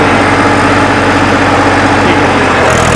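A John Deere tractor runs steadily in two-wheel drive, first high gear, a loud continuous low engine drone with even vibration throughout and no pauses.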